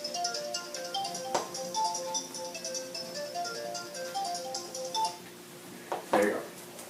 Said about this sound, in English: wait a bit, my phone is ringing.